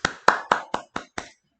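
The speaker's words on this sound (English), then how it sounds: "round of applause. Round of applause." Six sharp hand claps in a steady, slightly slowing rhythm, close and clear against silence, from one person giving a small round of applause.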